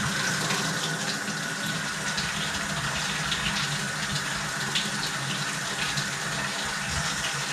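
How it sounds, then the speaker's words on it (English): Hot water runs steadily from a tap, a close, continuous splashing rush with no pauses. "So I'm just going to turn up the hot water a little bit."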